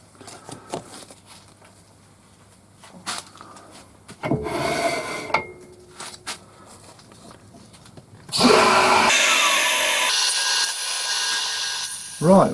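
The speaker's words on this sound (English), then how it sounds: "I'm sure you don't want to see all the sanding. I'll do a bit with 120" Rough rasping and scraping of 120 grit sandpaper working a wooden cane comes close and loud, with intermittent strokes early on building into sustained abrasive rubbing in the latter half.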